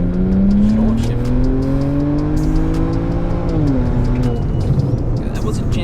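A BMW 335i with the N54 engine launches from a standstill and accelerates hard toward 100 km/h, its engine note climbing loud and close through the gears with a short shift break, no wheel spin.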